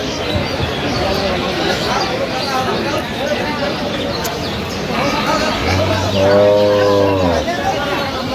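A cow moos loudly once, a long low call close by, at a busy cattle market at Aftabganj haat in Dinajpur among cows and calves, over a constant crowd murmur of talking voices.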